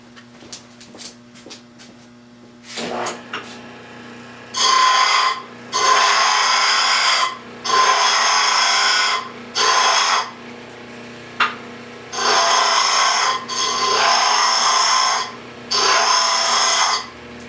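Repeated bursts of power grinding as the back corner is ground off a metal part for a Kerzel crank, six or seven loud sustained passes of a second or two each, separated by short pauses and light clinks.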